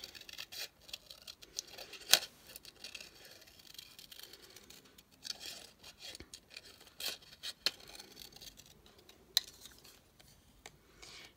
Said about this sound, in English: just carefully cut that out